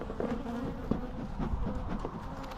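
Bees swarm and drone around an opened beehive during a hive inspection, a continuous close buzzing with individual insects passing near. It is fairly quiet and there is no talk.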